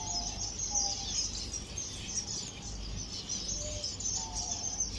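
Birds inside a reserve chirp and call at feeding time over eggs and cucumber, with repeated high tweets and calls over a steady low background noise.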